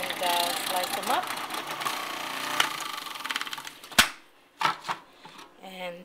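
A push-style slicing machine cutting raw potatoes for dehydrating, a dense mechanical clattering whir that stops abruptly with a sharp clack, followed by a few lighter knocks and a voice talking.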